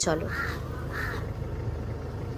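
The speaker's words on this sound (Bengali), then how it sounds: "এই দেখো গাছে কাক ডাকছে।" A crow caws twice from a tree by a wooden hillside cottage in Pahalgam, two quick harsh calls at moderate distance, with a person speaking briefly over a low background rumble.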